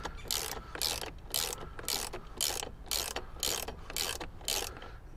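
A hand ratchet turns in steady repeated bursts of clicking, about ten strokes, while tightening an S&B cold side intercooler pipe clamp on a vehicle; close and clear, with no talk.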